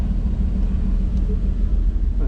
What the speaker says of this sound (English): We're idling at a stop.